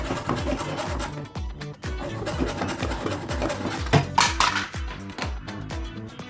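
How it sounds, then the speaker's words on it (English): Rhythmic back-and-forth rasping of a hacksaw cutting through shiplap wood, steady strokes up close with occasional metallic clinks. "so I just used my hacksaw here"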